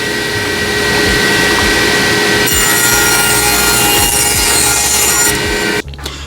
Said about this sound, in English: going to cut one edge of it on a bevel